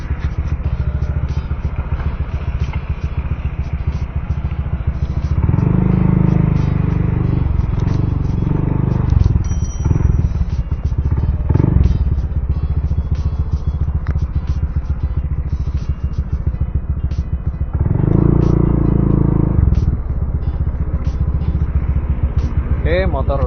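A motorcycle with an aftermarket exhaust idles steadily close by, a low burbling rumble that swells in a few brief throttle blips, with someone talking over it at times.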